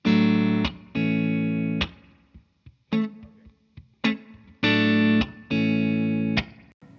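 Electric guitar played through a Fender Tre-Verb pedal on its 65 reverb setting: bright sustained chords struck in a loose rhythm, each ringing out with a short reverb tail before brief gaps and a few softer picked notes.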